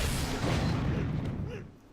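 A single rocket explosion from Unreal Tournament in a 1v1 duel match on the Liandri map bursts out with a rumbling boom, then quickly fades away.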